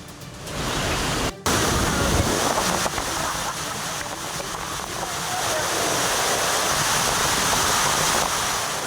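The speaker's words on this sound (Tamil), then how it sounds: "கவியருவியில் இந்த வாரத்தில் மட்டும் இரண்டாவது முறையாக காற்றாற்று வெள்ளப்பெருக்கு ஏற்பட்டுள்ளது" Kaviaruvi waterfall at Aliyar near Coimbatore in flood roars as a dense, continuous rush of water, loud and unbroken after a brief cut near the start.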